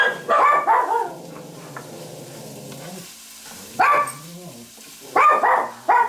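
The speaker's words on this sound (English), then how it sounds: "what's everybody barking at, man?" Dogs bark indoors near a kitchen stove while shrimp risotto is stirred. Several loud, near barks come in short clusters, with a scraping, sizzling pan filling the pauses.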